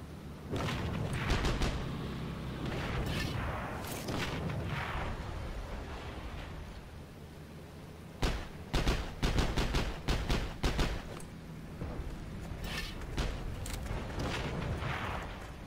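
Gunfire and artillery in the World War II shooter Heroes and Generals, with scattered distant booms early and a sharp cluster of loud rapid shots in the middle, over a rumbling battlefield backdrop.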